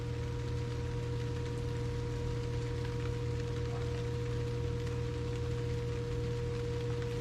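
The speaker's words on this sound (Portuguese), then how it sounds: "E dá para até a gente ouvir o ruído da chuva caindo sobre a vegetação." Steady rain falling on vegetation outdoors, a constant even hiss with no pauses, moderately faint and heard alone, over a low steady hum.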